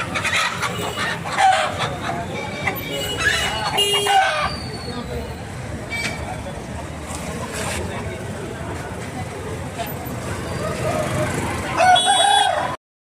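Roosters crow repeatedly at a busy Sunday poultry market in Eluru, the calls loud and close over constant crowd chatter and clucking hens.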